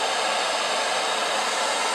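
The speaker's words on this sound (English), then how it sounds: "get your blow dryer, make sure any loose hair is covered, and I'm going to go ahead and warm it up" A blow dryer warming the adhesive on a tape-in hair extension, blowing a loud, steady, even whoosh close by with no talking.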